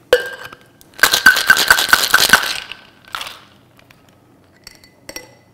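A cocktail of lemon juice and honey syrup shaken hard with ice in a shaker: a quick burst of rhythmic rattling clatter, then a few softer clinks of ice and glass, close and loud with no talking.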